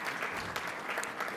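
Audience applause at a plenary session of a winter meeting, a steady wash of clapping lasting just over a second at moderate level, with no talk over it.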